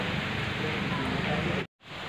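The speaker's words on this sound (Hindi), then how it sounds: "क्योंकि तेज़ बारिश आई हुई है ना" Heavy rain pours down in a steady, dense hiss that stays constant, then cuts out abruptly for a moment near the end before resuming.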